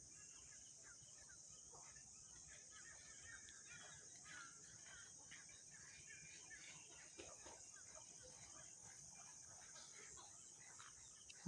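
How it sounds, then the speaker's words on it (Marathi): Birds sing and chirp in a village in Karjat taluka, scattered calls over a faint, steady insect and outdoor background, fairly distant and soft, with no talking. "तुम्ही आता पक्ष्यांचा आवाज ऐका सर्वांनी"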